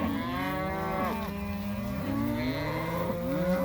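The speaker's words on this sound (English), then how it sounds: "38 to 40 bulls in here now." A large herd of about 38 to 40 bulls lowing in a pasture during fly season, several overlapping moos rising and falling continuously at close range with no talk.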